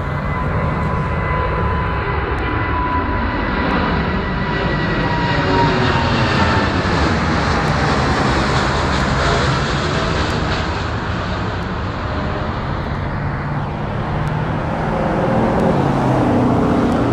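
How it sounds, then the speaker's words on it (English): Aeroplanes taking off and flying overhead, heard as a loud, steady jet-engine roar that holds for the whole stretch with no talk over it. "Shine on and enjoy the aeroplanes flying off."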